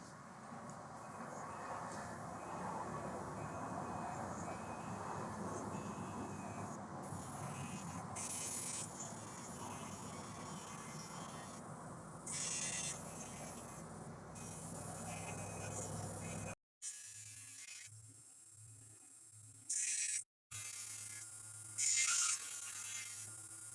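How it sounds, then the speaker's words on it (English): A forged knife blade is rough ground to 100 grit, giving a faint, steady abrasive rush that runs for about sixteen seconds and then cuts off, followed by brief quiet hums. "We'll just grind it to 100 grit."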